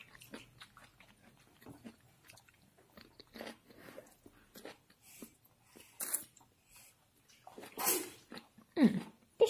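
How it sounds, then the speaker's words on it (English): A dog sneezes with sharp, snorting bursts close to the microphone, mixed with quiet chewing and snuffling noises. "Bless you, Mimi."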